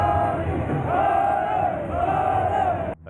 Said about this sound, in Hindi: वहां मौजूद भीड़ ने जयकारों के साथ उन पर फूलों की बारिश शुरू कर दी